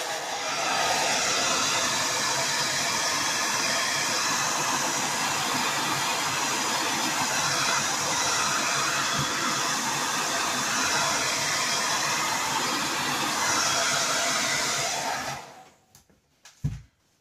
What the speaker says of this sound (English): I'm just going to quickly hair dry the green.